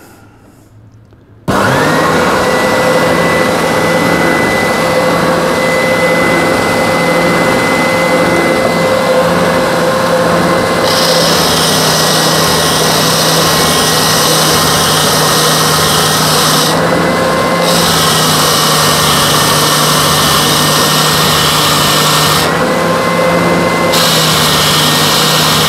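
A Triton 450W oscillating sander switches on after a short silence and runs steadily with its table tilted, a loud close motor whine and hum that holds constant while a higher hiss comes and goes.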